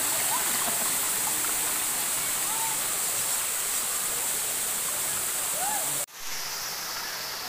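Bolinao Falls 1 in Bolinao, Pangasinan roars as a steady, dense waterfall rush close by, with faint voices behind it and a sudden brief dip near the end before the water noise returns.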